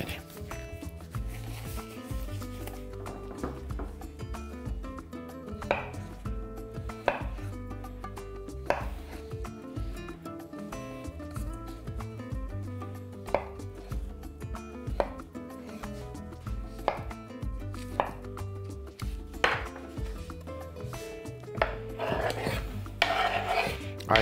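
Cooked beetroot is diced into cubes on a board, a long run of crisp, close knife chops in an uneven rhythm, with occasional louder thuds and faint background music underneath.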